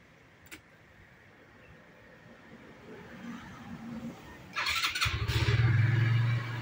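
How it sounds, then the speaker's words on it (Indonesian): A motorcycle with a Yamaha RFS, Y15 or RSX-type ignition coil and magneto under test starts with a short crank, then settles into a loud, close, steady idle with a rhythmic putter. "Lepas tu kita start motor."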